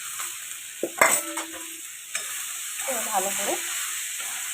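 Fried crab pieces sizzle steadily in hot spiced oil, with a clattering stir and spatula scrapes near the start and a short spoken phrase over the frying.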